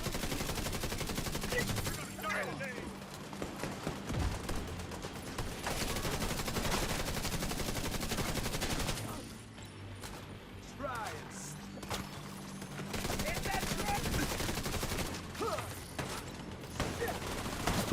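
Sustained gunfire in The Division 2 peppers the player in a solo hybrid build, dense rattling bursts running almost continuously at moderate loudness, with a short lull partway through, under a voice talking.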